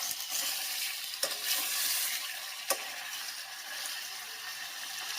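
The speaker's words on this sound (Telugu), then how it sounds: "ఇప్పుడు ఆయిల్లో వేసుకున్నాం కదా పన్నీర్ని, పీసెస్ చిరగకుండా మెల్లిగా కలపాలి." Paneer pieces fry in oil with a continuous bright sizzle while a spoon stirs them gently, giving a couple of sharp scrape clicks over the steady crackle. No voices are heard.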